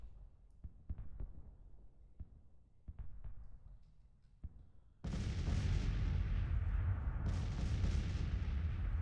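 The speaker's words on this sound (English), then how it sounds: "now we're just using 2 artillery batteries to bombard them" Two artillery batteries bombard in a Civil War strategy video game, first as scattered distant booms and thuds, then a dense continuous roar of cannon fire and rumble that swells louder in its final seconds.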